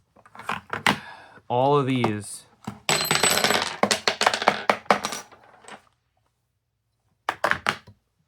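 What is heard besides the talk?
bits rattling in Milwaukee Impact Duty Packout case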